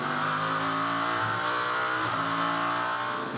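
Onboard the number 90 race car at Watkins Glen during the Six Hours of the Glen, a loud, close engine screaming at high revs with shifting harmonic pitch, continuous and without talk.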